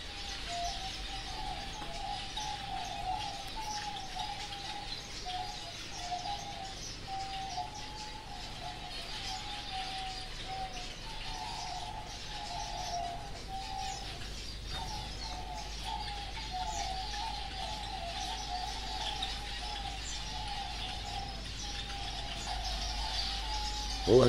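Pigeons and other birds call steadily inside an aviary in a reserve, with soft repeated cooing over a dense bed of chirps and insect-like buzzing, no voices.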